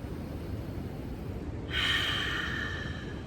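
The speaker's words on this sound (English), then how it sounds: "I want you to breathe in through your nose deeply" A single deep inhale drawn through the nose during a guided breathing exercise, starting partway in and rising to a strong airy hiss that holds steadily, close and clear.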